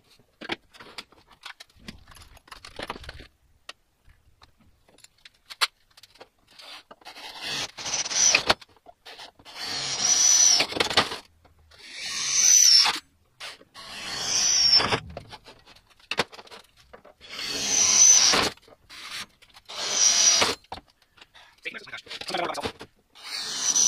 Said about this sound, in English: we'll go ahead and drill a couple holes here.